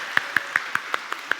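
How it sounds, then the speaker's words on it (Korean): Applause for the teams at a church service game: seven crisp, evenly spaced claps, close and clear, with no other sound between them. "자, 수고하신 분들에게 박수."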